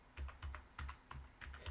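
Close, faint keystrokes on a computer keyboard, typed in short uneven bursts of soft clicks and taps with no talking over them.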